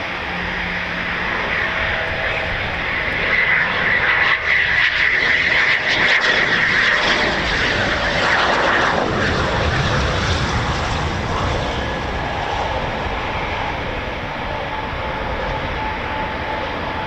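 Eurofighter Typhoon FGR4 jet engines at RAF Coningsby, a quick reaction alert station, roar loudly and continuously, with a broad whining rumble that swells and holds for the whole stretch.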